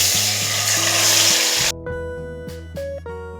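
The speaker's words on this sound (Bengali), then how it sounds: "ফোড়ন 30 সেকেন্ড ভেজে নিয়ে এর মধ্যে দিয়ে দেব আগে থেকে ম্যারিনেট করে রাখা মাটন" Marinated mutton hits hot oil and ghee with a loud, broadband sizzle that cuts off abruptly partway, leaving clinks and low tonal hum from the pan and utensils.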